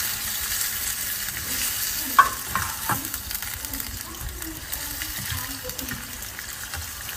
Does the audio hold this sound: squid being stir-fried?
yes